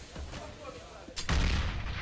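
A gunshot rings out in Counter-Strike during a competitive esports match, a single loud crack past the midpoint followed by a sustained booming rumble, with quieter in-game sounds leading up to it.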